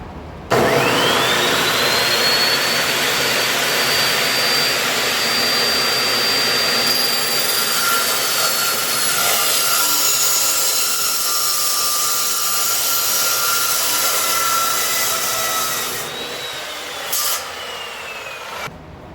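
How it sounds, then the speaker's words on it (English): An Evolution saw fitted with a steel demon blade cuts through clamped metal, giving a loud, steady, high-pitched grinding whine for about fifteen seconds that fades and then stops with a brief final rattle. "Here's my Evolution saw with the steel demon blade in it."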